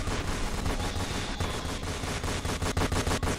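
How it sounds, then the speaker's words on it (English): Sustained gunfire in a Roblox game, an Area 51 map, with dense rapid shots layered over constant loud noise and sharp individual cracks standing out toward the end. "I'm gonna keep shooting you until you die."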